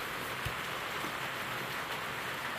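Steady rain falls outdoors by a grassy riding arena and horse stables, a constant, even hiss of drops on surfaces with no break.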